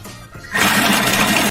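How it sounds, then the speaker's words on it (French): A Thermomix blends speculoos biscuits at speed 4, the bowl erupting after a quiet start into a loud, steady, gritty roar of crushing and whirring that holds to the end. "On va mixer sur la vitesse 4 pendant 10 secondes."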